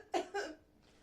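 A person coughs twice at a doctor's request during a medical examination, two close, fairly loud bursts followed by quiet.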